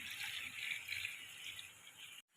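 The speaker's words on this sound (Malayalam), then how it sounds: "ഇതിലേക്ക് വെവാൻ ആവശ്യമായ വെള്ളം" Water runs steadily into a cooking pot of chopped tapioca, a soft continuous pouring hiss heard close by that stops abruptly just before the end.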